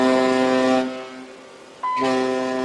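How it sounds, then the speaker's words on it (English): A ship's foghorn sounds as a warning to a suspected pirate boat, a loud sustained harmonic blast that drops away briefly and then resumes strongly, close and alone. "The foghorn is to tell them they've been spotted."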